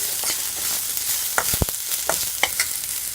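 Onions frying in a hot pan for uppu paruppu crackle and sizzle, with a few sharper clinks of stirring standing out over the steady frying hiss.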